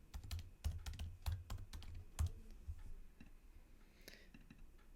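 Close, quiet clatter of typing on a computer keyboard, a quick burst of keystrokes that thins out into a few scattered clicks.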